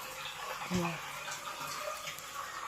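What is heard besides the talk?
new Samsung washing machine draining water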